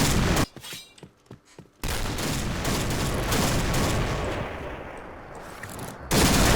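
Video game gunfire from sniper play: a dense, continuous roar of shots and booms, interrupted early by a short quieter stretch with a few separate sharp cracks, then loud again.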